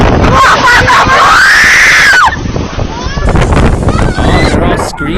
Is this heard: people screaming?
yes